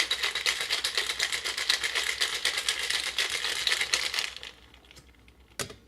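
Ice rattles hard and fast inside a tightly capped cocktail shaker as a Gibson martini is mixed, loud and close, in a steady churning rhythm that stops near the end with a final knock.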